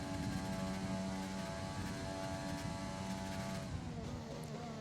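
A Can-Am race car in a sim racing game holds full throttle at Spa, a steady droning engine note that stays loud and sustained throughout.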